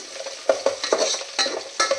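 Chopped vegetables are stirred in a hot pan, with soft scraping strokes and a light, steady sizzle at moderate distance and no voices.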